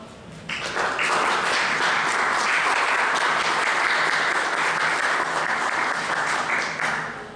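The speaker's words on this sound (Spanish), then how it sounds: "pido un fuerte aplauso para SUNAT y para la doctora Norma" Enthusiastic audience applause at a customs conference held by a law and political science faculty in Lima, rising quickly into a dense, even roar of many clapping hands that holds for several seconds before tapering off, with no voices.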